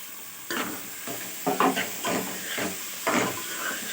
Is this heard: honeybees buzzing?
no